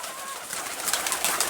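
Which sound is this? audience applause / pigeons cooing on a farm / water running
pigeons cooing on a farm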